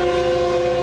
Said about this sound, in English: a Metrolink train on the San Bernardino line rolls past Arrow Highway in Laverne